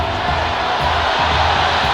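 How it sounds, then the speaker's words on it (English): A large cricket crowd at Kensington Oval roars in a steady, loud wash of disapproval after a West Indies batsman's run-out against Australia. "Crowd doesn't like it"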